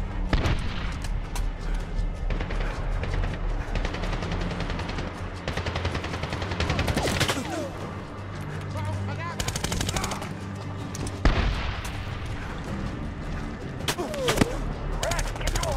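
Heavy gunfire fills a battle in Medal of Honor (2010), with rapid machine-gun bursts, single shots and booming impacts that come in dense clusters separated by short lulls. A voice is heard faintly under the shooting.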